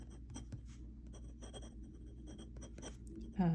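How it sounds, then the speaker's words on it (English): A glass pen dipped in ink scratches across paper up close, with light, rapid strokes and taps, faint and steady, ending in a brief louder rub. "And then you just start writing."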